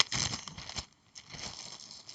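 Dice are handled inside a Ziploc plastic bag, giving short bursts of close crinkling and rustling separated by a brief pause.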